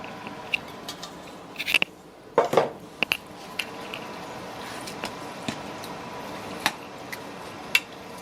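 Vegetables and potatoes for pav bhaji being stirred in a pan, with scattered clinks and scrapes of a utensil against metal over a soft background sizzle, a few sharper knocks standing out.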